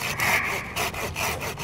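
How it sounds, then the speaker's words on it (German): A hand saw cuts through a lilac branch about 20 cm above the ground in a garden, its steady back-and-forth rasping strokes close and loud, with brief pauses between pulls. "Ich säge den hier unten."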